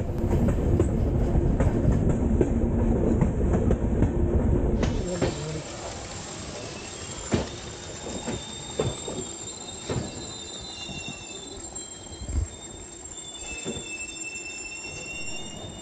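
A train running along a Western Ghats railway line, the loud rumble of the carriages giving way to rhythmic clickety-clack of wheels over rail joints with occasional wheel squeals, steady and close.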